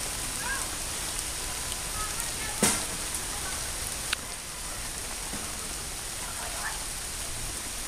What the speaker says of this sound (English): In this pouring rain, huh?